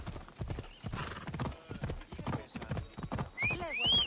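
Horse galloping in the video game Assassin's Creed Odyssey: a steady, close, loud clip-clop of hooves, with a neigh and whinny rising near the end.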